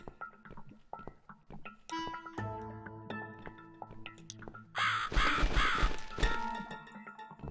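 A bird caws in The Cat Lady video game, sharp harsh calls rising over an eerie musical backdrop, with a louder burst of cawing near the end.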